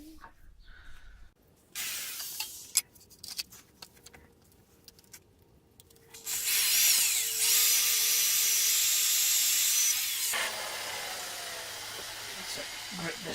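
A hole cutter bores through a steel gas cylinder being turned into a wood burner, starting with scattered knocks and short bursts, then settling into a loud, steady grinding whine that runs for several seconds before easing into a lower continuous drone.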